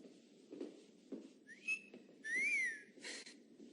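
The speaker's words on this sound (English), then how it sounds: "It's been a while since I've gotten a wolf whistle." A human wolf whistle rises and falls in a clear, bright two-part sweep, heard amid a quiet indoor setting with faint background murmur.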